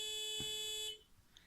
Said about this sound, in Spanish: al activar el sensor, la bocina también se activó y pues empezó a sonar activándose la alarma